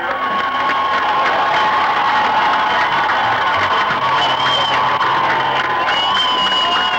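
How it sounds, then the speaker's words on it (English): A college football crowd roars and cheers loudly as the final seconds of an unbeaten 1994 Plymouth State season run out, a sustained dense wall of shouting and whooping with no letup. "we'll let you listen to this crowd explode with an unbeaten season"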